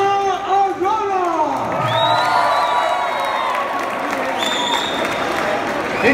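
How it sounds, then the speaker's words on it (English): A college audience at the Presidency College launch of the book Love By the Way applauds and cheers for author Bhavna Arora, with dense clapping, whoops and crowd noise and an announcer's voice ringing over the top. "put your hands together, huge applause for Bhavna Arora"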